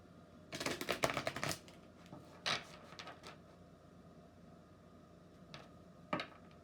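A deck of Soul's Journey oracle cards by James Van Praagh being shuffled, a soft papery riffle near the start followed by a few faint, scattered card flicks in a quiet room.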